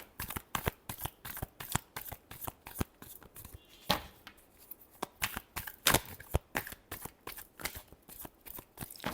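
Tarot cards being shuffled by hand, close and crisp, in quick repeated riffling bursts with brief pauses between them.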